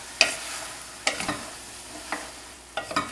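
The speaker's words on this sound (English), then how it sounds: "And now, continue to stir." A spoon scrapes and stirs potato soup in a pot, with a few distinct stirring strokes and soft bubbling between them, close by and fairly quiet.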